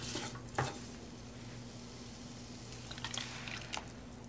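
Tomato paste stirred into a frying egg curry base, faint sizzling under a steady hum with occasional scrapes and clicks of the spoon against the pan.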